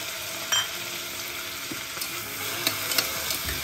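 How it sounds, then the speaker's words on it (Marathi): Rice stirred into softened onion in a hot pan sizzles steadily at close range, with a few sharp clinks of a spoon against the metal and no talking. "तांदूळ परतवायचे जरा."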